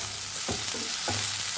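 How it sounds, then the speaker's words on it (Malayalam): Beetroot thoran stirred in a pan, a steady sizzle with two distinct scraping strokes of a spoon, close and without speech. "ഇളക്കി കൊടുക്കാം."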